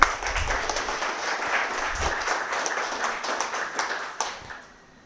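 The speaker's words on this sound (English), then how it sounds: "Round of applause for Dan." Audience applause for a speaker at a tech meetup, steady clapping from a moderate indoor crowd lasting several seconds before tapering off.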